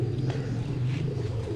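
A pigeon held up for display coos in a low, steady murmur close by, with a continuous hum of background noise and no talking.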